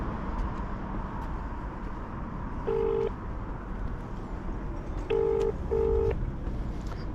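Touch-tone dialing to reach Paul S Winson Coaches: three distinct DTMF beeps, one alone then two close together, clear over a steady background of road and traffic noise.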